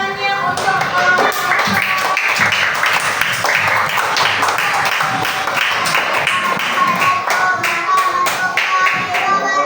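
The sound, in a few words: children clapping for a group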